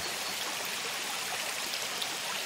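A forest stream flows in a soft, steady babble with light trickling detail, quiet and continuous, with no voices.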